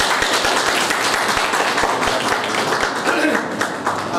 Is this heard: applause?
yes